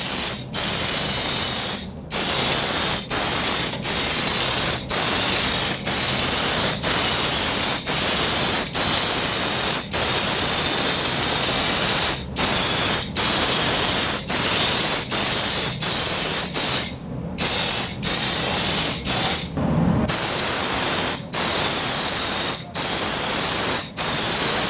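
Mopar undercoating hisses steadily from a spray gun onto the lower side of a truck box, a loud continuous spray broken by brief, regular trigger pauses throughout.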